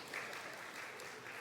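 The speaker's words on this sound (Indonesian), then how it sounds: "Tepuk tangan ya." Faint, steady applause from an audience at a Parents' Day gathering, a soft wash of distant clapping with no clear individual claps.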